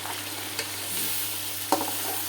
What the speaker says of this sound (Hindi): चिकन जो है वो अच्छा सा यहाँ पे रोस्ट हो गया है और अब मैं इसमें डालने लगी हूँ टमाटर, हरी मिर्चें।